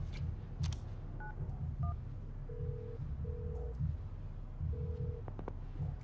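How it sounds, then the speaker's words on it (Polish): Touch-tone keypad beeps from a phone being dialed in a football career video game, a few quick tones followed by longer steady dial tones over a low background hum. "Zadzwonię do niego."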